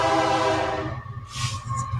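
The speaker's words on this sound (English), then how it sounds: "there's a train about to come through." A train rolls through up close in a game setting, loud and continuous, with a horn-like tonal blast that fades into a steady rumble and a bright hiss.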